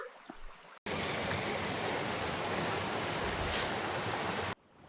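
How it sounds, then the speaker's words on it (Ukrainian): The Zhenets river flows outdoors in the forest with a continuous, loud, broadband rush of water that cuts in abruptly and stops sharply after a few seconds. "І ось я біля річки Женець."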